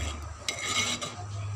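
A spoon stirs masoor dal in a cooking pot on low heat, a continuous close scraping and clinking against the metal with a brief sharper knock partway through, with no talking.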